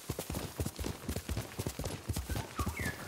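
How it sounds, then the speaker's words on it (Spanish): Hooves of Yami, a horse in the video game Ghost of Tsushima, pound in a fast, regular gallop rhythm, close and prominent, with a brief whinny and faint game sounds over the top. "Eres un buen caballo, Yami."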